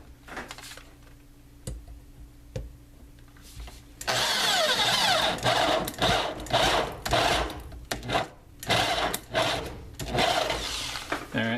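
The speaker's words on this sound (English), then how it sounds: "Okay, drilling." An electric drill bores a 7/16 hole in an aluminum box mod enclosure. After a quiet stretch of light clicks and handling, a loud whirring grind starts and repeatedly surges and eases as the bit cuts through the metal.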